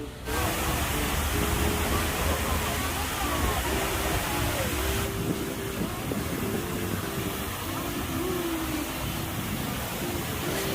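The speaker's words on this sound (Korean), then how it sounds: "보기만 해도 시원한 이 폭포는 거울 연못에 있는 거대한 철제 구조물인 하늘빛 폭포라고 합니다." A large waterfall pours from a giant steel structure, 25 m high, into a mirror pond at a city park in Busan, roaring as a loud steady rush of water with a faint low hum beneath.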